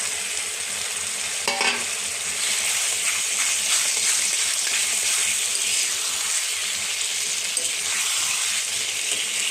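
Fried potatoes go into a pan of cooked spice paste for a Bengali fish curry and sizzle loudly and continuously, with stirring scrapes and a brief clatter near the start.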